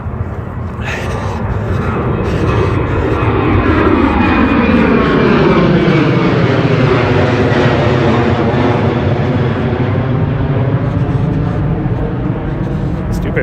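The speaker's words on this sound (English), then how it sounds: "Stupid plane's taking off right when I'm trying to tell a story." A fixed-wing airplane takes off near an outdoor spot on a chilly morning, its engine a loud, continuous roar with sweeping, shifting tones that swell and fill the whole stretch, with no talking over it.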